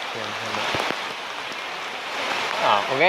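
Steady rain hisses across the whole clip on a road, with a voice talking briefly over it near the start and again at the end.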